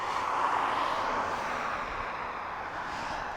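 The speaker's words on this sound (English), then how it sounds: "So many aircraft coming in." An aircraft arriving at East Midlands Airport at night gives a steady, broad jet roar, moderately loud and fairly distant, holding with little change throughout and with no talking.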